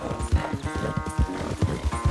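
A horse in Red Dead Redemption 2 clip-clops along at a brisk, steady gait, its hooves thudding rhythmically and close throughout, with no one talking.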